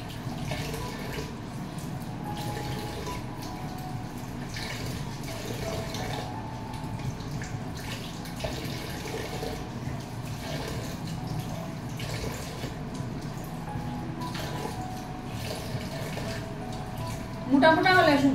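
Leafy greens being washed under running water at a sink, a steady trickling and splashing stream going on throughout while someone talks over it, with a brief louder splash at the end.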